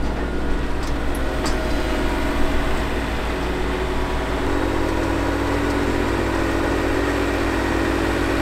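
A Fendt 314 tractor running steadily while pulling a wide-track broccoli planter in the field, its engine a constant mid-pitched drone with no clear revving, heard alone without voices.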